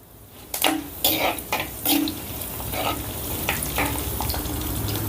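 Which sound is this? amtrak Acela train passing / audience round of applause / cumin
cumin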